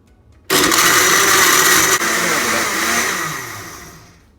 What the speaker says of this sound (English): half cup of coffee, half cup of milk, and 2 tablespoons of sugar, and blend it.